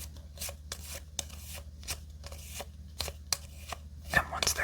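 Playing cards are shuffled by hand for the Regicide fantasy card game, giving a series of quick, crisp riffles and soft rubs repeated at a steady pace, close and quiet with no talking.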